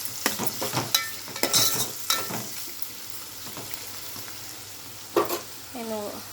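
Sliced onions fry in a pan with salt and turmeric for a mutton masala gravy, giving soft sizzling and a few scrapes of stirring, faint and close, with no talk.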